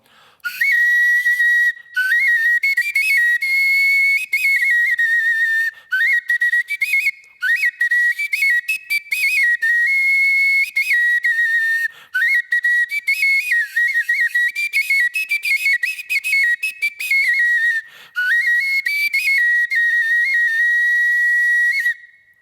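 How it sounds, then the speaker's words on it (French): A reconstructed prehistoric fipple flute with four finger holes plays a bright, breathy melody in short repeated phrases, each note clear and close, heard alone. "Alors là, il s'agit déjà d'une flûte moderne puisqu'elle a 4 trous de jeu."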